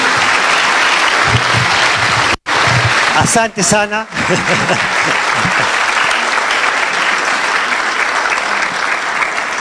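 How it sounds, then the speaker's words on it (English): Sustained applause from an audience at a business forum breakfast and expo, steady and full for the whole stretch, with a brief pause and a short spoken thank-you in Swahili near the middle. "Let's give another round of applause to our chief guests."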